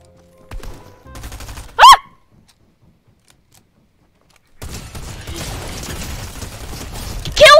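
Gunfire bursts in the Fortnite Chapter 3 Season 2 battle royale: a few rapid shots early, a sharp loud blast near two seconds, then after a silent gap a dense stretch of continuous firing and another loud crack at the end.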